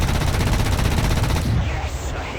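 Rapid 20 mm cannon fire from a tank in a vehicle combat game, a loud, dense rattling burst that cuts off after about a second and a half, leaving a fading echo.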